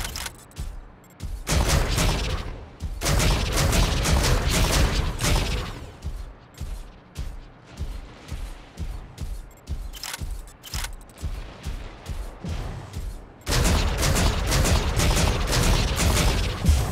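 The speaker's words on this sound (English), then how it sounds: "Incoming fire!" Incoming weapon fire in the mech combat game Mech Arena comes as loud bursts of rapid gunfire, with long sustained volleys at the start and end and a stuttering run of quick repeated shots in between.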